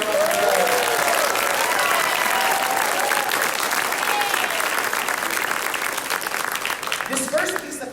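A concert audience applauds a fifty-student middle school choir at a school winter choral concert, a dense, loud, sustained clapping with faint voices mixed in, tapering slightly near the end.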